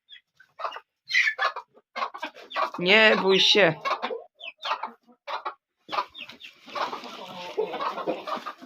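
Chickens cluck and squawk in short bursts close by, with a louder flurry in the middle, while a person speaks intermittently over them.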